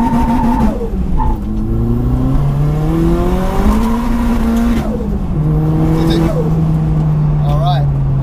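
A stripped-out, roughly 1000 kg, 450 bhp front-wheel-drive Astra GSI launches hard, its engine rising through repeated climbing revs with gear changes, loud and close, while people talk over it.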